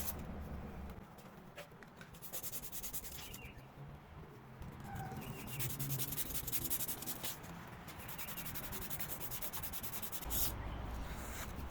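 A motorcycle starter part is sanded by hand with 360 grit sandpaper, making a continuous close scratchy rubbing with quick back-and-forth strokes that keep on throughout, fairly quiet.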